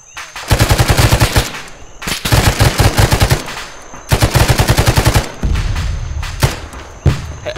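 Bursts of automatic machine gun fire from suppressing fire in Arma 3, loud and close, rattling in several long rapid strings separated by short pauses.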